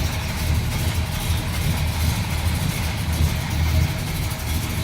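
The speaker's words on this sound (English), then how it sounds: "See, it fires right up, idles very nicely." A 1970 Pontiac GTO tribute idles at close range with a steady low rumble, even and unbroken, loud with no voices over it.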